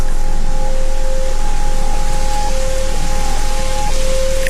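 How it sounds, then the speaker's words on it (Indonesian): Heavy rain pours down in a steady, loud, dense hiss with no speech over it. "tiba-tiba saja hujan turun sangat deras"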